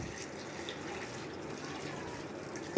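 Water is poured into a pot of beef karahi with tomatoes, garlic, turmeric, salt and red chili powder, making a steady, soft, continuous splash and trickle that runs at moderate loudness throughout.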